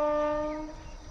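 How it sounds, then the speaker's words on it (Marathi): A train horn sounds in the early morning countryside, a loud harmonic blast already underway that holds for under a second and then fades, leaving a low rumble behind. "रेल्वे कोकायला लागले"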